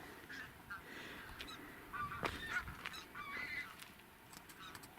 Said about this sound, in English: Another little bird up there.